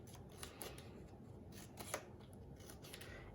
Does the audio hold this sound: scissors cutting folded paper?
yes